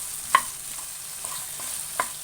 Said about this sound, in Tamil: 3 மினிட்ஸாவது நல்லா சாட்டே பண்ணிக்கோங்க.